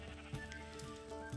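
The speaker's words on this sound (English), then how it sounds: "I've started a rainbow sheep farm" Sheep on a rainbow sheep farm in the video game Minecraft bleat faintly, giving a few short, quiet calls over a soft steady background.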